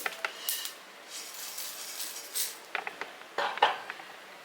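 Roasted kavuni black rice grains poured out, giving a dry rattling patter against a metal vessel in irregular bursts, close and fairly quiet.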